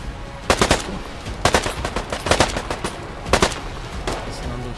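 Gunfire in a PvP video game, several bursts of rapid automatic shots against a noisy background, moderately loud and spaced out over a few seconds.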